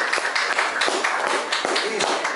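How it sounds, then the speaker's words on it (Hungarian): An audience at a café evening event claps for a graphic artist, a dense, steady round of applause filling the whole moment with lively overlapping claps. "Még egy nagy tapsot neki"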